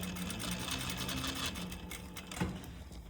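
A sewing machine runs continuously up close, stitching a second basting row within a half-inch seam allowance on a princess seam, with a steady mechanical whir and a small knock near the end.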